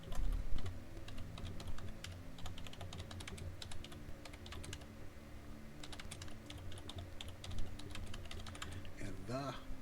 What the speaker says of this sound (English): Let's type in organizations such as airlines and military.